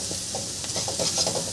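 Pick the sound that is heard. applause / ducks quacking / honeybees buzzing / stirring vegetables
stirring vegetables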